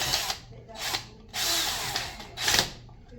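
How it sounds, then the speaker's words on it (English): A power drill whirs in three or four short bursts while tightening a brass terminal screw on a GFI outlet, the middle burst longest, close by with faint background noise between pulses. "take my drill here and tighten this brass screw up"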